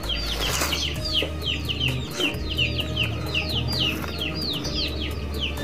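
Many chickens cluck and chirp close by in a busy chatter, steady throughout, beside someone eating instant noodle soup with chili.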